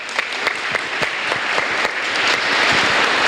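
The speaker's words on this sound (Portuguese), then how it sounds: "Merece uma salva de palmas, gente." A church congregation at a live Father's Day service applauds. Scattered individual claps close by quickly build into fuller, steady clapping that swells toward the end.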